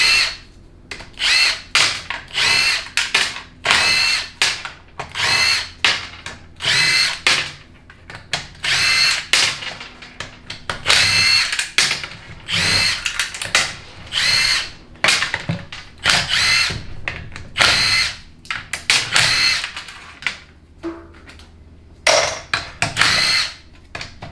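A power tool spins out the 13mm pan bolts on a 4L60E transmission during a teardown, giving a series of short, loud, sharp whirring bursts with brief pauses between each bolt, close up and alone.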